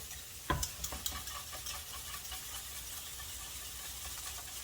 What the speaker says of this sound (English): We're just gonna mix this together.